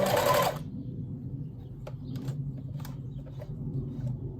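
A sewing machine backstitches the corners of a ribbon tutu. It starts with a short bright burst of rapid stitching, then settles into a low, steady motor hum with light intermittent ticks.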